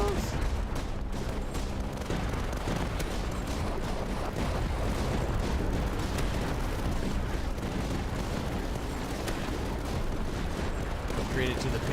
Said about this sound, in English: Yeah, look at it fire now!